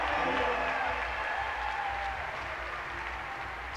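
A big crowd cheers and applauds steadily at a bouldering World Cup final in Munich, a dense, sustained roar of clapping and voices that eases slightly toward the end.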